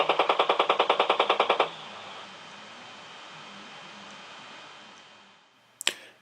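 Rapid automatic gunfire at a target: a quick string of about a dozen sharp, evenly spaced shots lasting under two seconds, then a fading hiss and one faint later crack.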